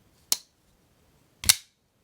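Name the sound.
Shirogorov Custom Division Neon pocketknife blade deploying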